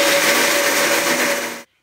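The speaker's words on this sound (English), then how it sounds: "I've got my cashew nuts in my blender and I'm going to pulse it." A blender pulses cashew nuts with no soaking, giving a steady loud whirring grind that runs continuously for over a second and a half, then cuts off abruptly into silence.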